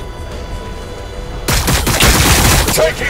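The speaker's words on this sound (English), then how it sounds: "Taking fire!" Gunfire in Warhammer 40,000: Battlesector breaks in halfway through as a loud, dense fusillade of rapid overlapping shots, following a quieter stretch of steady battlefield ambience.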